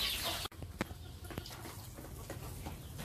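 A bantam chicken clucks softly while pecking at pomelo, giving a few short, close clucks and pecks in a quiet outdoor setting with faint background noise.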